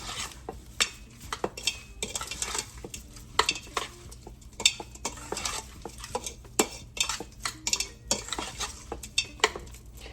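A spoon scrapes and clinks in a bowl while a mixture with garlic paste is stirred, giving repeated rhythmic scraping strokes, fairly quiet and close, with no talking.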